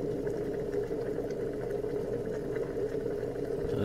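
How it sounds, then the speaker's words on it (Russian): Water bubbles and churns at a steady boil, a continuous close rumbling simmer with no pauses. "Вода кипит"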